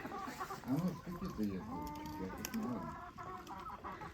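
A rooster clucks and calls close by in several short bursts, with voices talking faintly in the background.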